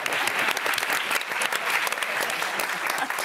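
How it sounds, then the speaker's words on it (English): Dense, sustained applause from a press-conference audience at the 2022 Cannes Film Festival, honoring the Palme d'Or winner Triangle of Sadness. It fills the room loudly and steadily throughout, with no voices rising above it. "Applaud."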